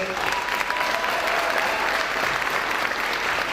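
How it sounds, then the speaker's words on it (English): Applause from an audience for City Year staff members at a Martin Luther King Jr. Day of Service event, a dense and sustained round of clapping that stays loud throughout. "Let's applaud our city year staff members."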